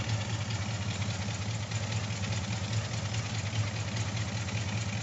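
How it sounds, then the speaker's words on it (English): A 1984 K30 truck engine idles steadily with an exhaust leak between long tube headers and the rest of the exhaust, giving a constant low rumble with a ticking, knocking texture throughout. "Some exhaust leak that I just can't get it to seal up between the long tube headers and the rest of the"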